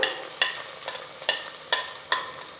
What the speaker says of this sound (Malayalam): നന്നായിട്ട് ചെറിയുള്ളി ചേർത്ത് കൊടുക്കാം